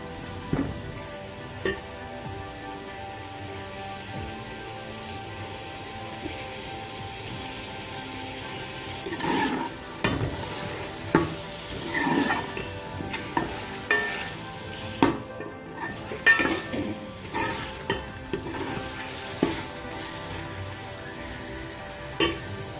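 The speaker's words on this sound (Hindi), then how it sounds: "इनको तकरीबन आप 1-2 मिनट के लिए आप भून सकते हैं" Aloo baingan sabzi vegetables frying and being stirred in a pan: a soft, steady sizzle with scattered clinks and scrapes of the spoon that grow busier partway through, close and moderately quiet.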